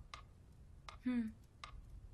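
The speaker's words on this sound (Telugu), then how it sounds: "ఈ టికింగ్ శబ్దం వినపడుతుందిగా" A clock ticks faintly and steadily in a quiet room during a hypnosis scene in the film Gruham, about three sharp ticks roughly three-quarters of a second apart, with a brief murmured voice between them.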